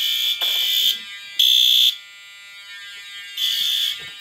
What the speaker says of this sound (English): Let's activate the smoke detector